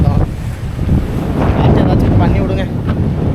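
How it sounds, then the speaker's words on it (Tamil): Strong stormy wind on a coast during a tsunami scare, roaring and buffeting a nearby microphone in a steady broad rush with gusty swells and no clear voices. "காற்று அதிகம் புயலும் அடிக்கிற மாதிரி இருக்குது"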